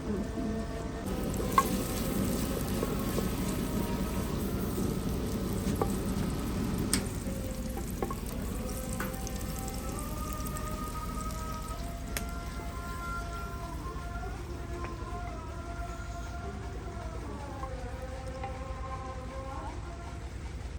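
Onions fry in ghee with a steady, dense sizzle and crackle that runs throughout, close and even, with faint tonal sounds drifting over it.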